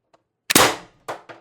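One loud, close report from an Umarex TR50 air rifle tethered to a 48 cubic inch regulated air tank, a sharp crack with a short ringing tail, then two quick metallic clicks after it.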